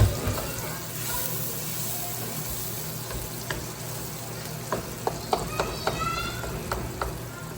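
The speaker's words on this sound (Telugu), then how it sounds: "దీనిలో వేపుతాము." Spice paste with poppy seeds sizzling and frying in hot oil for mutton curry, a soft steady sizzle close by with a few sharp clinks of stirring toward the end.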